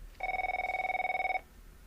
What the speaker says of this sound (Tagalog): Kay disdisok lang iti telepono, ngam matamanen umawag